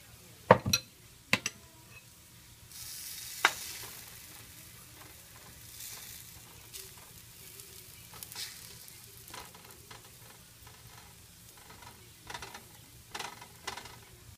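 Beaten egg poured over a chapati with cheese in a hot pan sets off a soft, steady sizzle, broken by a few sharp clinks of utensils on the pan near the start and scattered light taps later.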